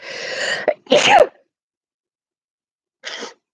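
A loud, sharp sneeze up close, followed by a quieter second sneeze a couple of seconds later.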